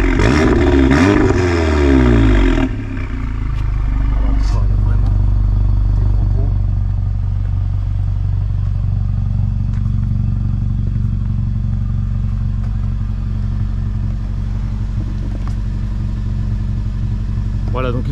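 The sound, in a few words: Seat Leon Cupra R exhaust with valve open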